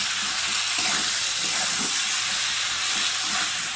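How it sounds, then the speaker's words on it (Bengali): Spice paste with turmeric, ginger and cumin paste frying alongside potato and pointed gourd, giving a steady, continuous hiss and sizzle throughout with no talk. "ভালো করে মশলাটাকে আমি কষে নেবো আলু আর পটল দিয়ে"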